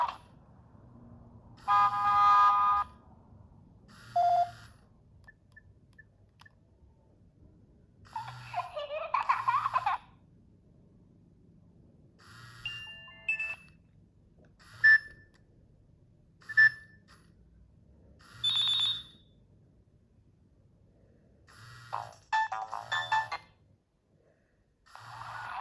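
Several short ringtone melodies from a Nokia 6600 phone play one after another, each a bright burst of electronic tones separated by brief pauses, fairly close and clear.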